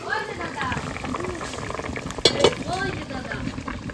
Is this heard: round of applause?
no